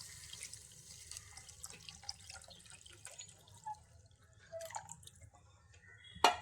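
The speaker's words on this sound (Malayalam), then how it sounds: "ഇനി നമുക്ക് ആ കഞ്ഞിവെള്ളം അതിലേക്ക് ഒഴിച്ചു കൊടുക്കാം." Rice water pours and drips into a pot of soup, a faint, close trickle broken by scattered droplets and a slightly louder splash at the end.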